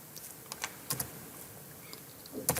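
Scattered keystrokes on a computer keyboard enter employee details into a payroll database, a few close clicks with short pauses between them in a quiet room.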